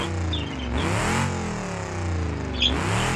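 Car engine revving hard with a broken exhaust in the BeamNG.drive driving game, rising and falling in pitch through two loud throttle sweeps, close up with no talk.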